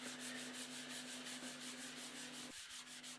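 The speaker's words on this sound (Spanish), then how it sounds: "Para alisar cualquier imperfección que tenga, le paso una lija al agua." Wet sandpaper rubbed over a handmade cement washbasin, a steady, even rasping scrub that runs continuously and close, with a brief pause near the end before it resumes, no voices.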